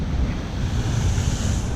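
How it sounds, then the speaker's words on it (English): Large ocean waves break against the shore in a steady, loud roar of surf, with gusting wind buffeting the microphone throughout and no voices. "The waves are too big."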